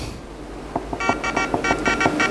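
A phone-controlled Shell BMW M4 toy car from a 2022 motorsport collection sounds its horn: a quick run of short electronic toots, close and fairly loud, repeated in a rapid uneven rhythm.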